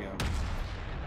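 A single sharp gunshot from a war video game cracks out loudly near the start, then a sustained rumbling battle din carries on without talk.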